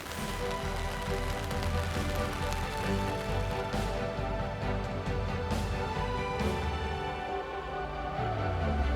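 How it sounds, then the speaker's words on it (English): Steady rain in the Alaskan wilderness patters continuously on a surface, a dense, even hiss of drops with no voices. "It's been raining, nasty."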